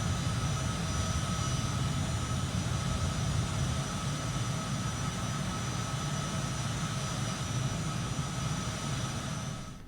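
A Bombardier Global 6000 business jet takes off in Microsoft Flight Simulator, its jet engines a steady, loud, broadband roar with a thin high whine running throughout, alone with no voices.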